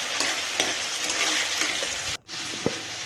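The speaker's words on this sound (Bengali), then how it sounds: "এবার একটু লাল লাল করে ভেজে নেবো" Chopped onions frying in a hot pan, a dense continuous sizzle heard up close that cuts out briefly near the end before resuming.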